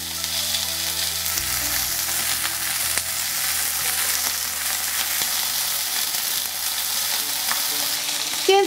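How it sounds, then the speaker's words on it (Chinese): Starch-coated oysters sizzle in hot oil after being turned over in the pan, a steady close crackling hiss with a few soft knocks near the start and a brief clink at the end. "煎至一半，我们反个面煎一下"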